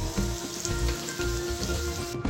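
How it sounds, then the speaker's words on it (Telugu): Ivy gourd (dondakaya) pieces fry in a pan with a steady, moderate sizzle and light crackle, an even texture throughout with no talking. "దొండకాయ ముక్కలు ఫ్రై అయిన తర్వాత స్టవ్ ఆఫ్ చేసుకోవాలి"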